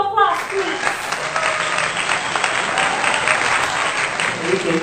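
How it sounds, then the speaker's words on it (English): Steady applause from a talk show audience as a guest is welcomed, a dense wash of clapping that stays loud and even throughout, with no talk over it. "A round of applause, please."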